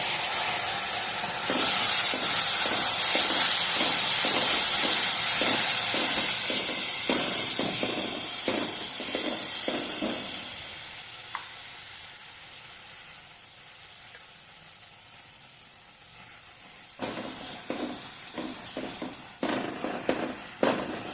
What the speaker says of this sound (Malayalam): മസാല നന്നായി വഴറ്റണം